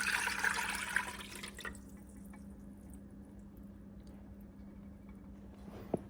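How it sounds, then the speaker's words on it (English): Water is poured from a quart measure into a cooking pot for vegetable stock, a short, bright splashing rush close by that stops after a second or two, followed by quiet kitchen background and a small clink. "So I'm going to add the water to the pot."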